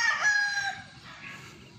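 An LDT Gray gamefowl rooster crows once, close and clear, a bright drawn-out call that trails off over quiet background noise.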